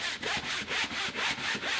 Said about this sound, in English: I'm going to scrub up and down, and then this way.